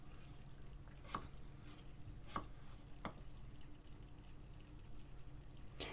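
Knife chopping vegetables cut into small pieces for a perpetual stew, with a few distinct sharp strikes on a board spread irregularly over a quiet, low background hum; no talking.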